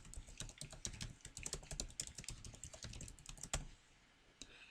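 Rapid, uneven clatter of keys as code is typed on a computer keyboard, close and fairly quiet, with a brief pause near the end before a last keystroke; no voices.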